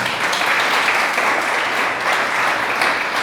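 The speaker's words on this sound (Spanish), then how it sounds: "Dale un aplauso a Dios por eso" A church congregation breaking into loud, sustained applause during a service, many hands clapping in a dense, even wash that holds steady throughout with no speech on top.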